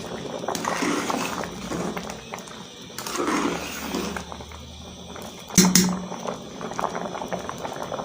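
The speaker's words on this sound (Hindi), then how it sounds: "अब हम इसका ढक्कन रखेंगे और इसको उबाल आने देते हैं।" Rice for sweet zarda boils in a covered pot with an ongoing bubbling, rising and falling in waves, and a single sharp knock about two-thirds through.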